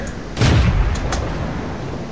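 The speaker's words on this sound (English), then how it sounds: "I'm firing off shot after shot and not making contact" A tank cannon fires in the World of Tanks video game, one loud booming shot with a rumbling tail, then fainter distant reports under a steady battle background.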